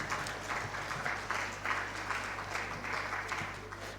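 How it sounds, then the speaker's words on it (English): Moderate applause from the audience at the opening ceremony of a national migrant dialogue, a steady clapping wash over a low electrical hum in a large hall. "Please put your hands together for him."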